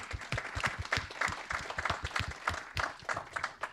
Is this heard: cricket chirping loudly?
no